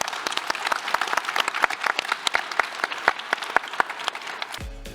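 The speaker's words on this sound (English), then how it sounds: "Give a round of applause to our wonderful panelists" Audience at a conference plenary on safe systems and equitable mobility gives panelists a round of applause: dense, loud clapping with sharp individual claps, sustained for several seconds before cutting off abruptly.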